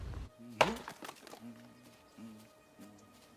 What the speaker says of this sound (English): That's where Chris comes over to find Walter chopping wood